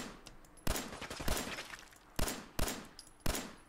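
Gunfire in the video game Fallout 4 comes as five sharp, loud shots at irregular intervals, with low rumbling ambience between them.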